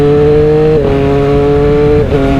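Loud, close Triumph Daytona 765 Moto2 motorcycle accelerating with its quick shifter, a steady high engine note broken by two quick upshifts that drop the pitch, no voices.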